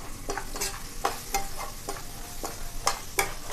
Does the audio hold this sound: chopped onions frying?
yes